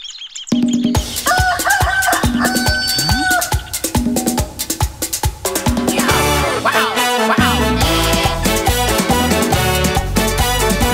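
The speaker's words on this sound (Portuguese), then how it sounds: "um galo cantor que pelas manhãs cantava cocorocorocotó" A rooster crows and chickens cluck on a farm, set as sound effects within a lively children's song with dense instrumental backing.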